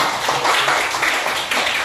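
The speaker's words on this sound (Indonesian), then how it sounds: "tepuk tangan buat kalian" A class of students applauds together, a brief dense burst of clapping hands that stays fairly loud and even for under two seconds.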